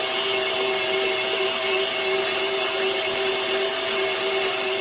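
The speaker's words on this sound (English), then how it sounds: "I could probably turn the mixer up. In fact, I'm going to go to 6." A stand mixer runs at speed 6 mixing sausage meat, giving a loud, steady, continuous motor whine with a fixed pitch, close by and without talk.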